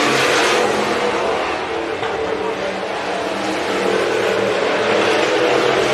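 IMCA hobby stock race cars roar around the Estevan Motor Speedway dirt track during a Dirt Wars event, a loud continuous engine drone with revving as two cars slide sideways in corner three, under an announcer's commentary.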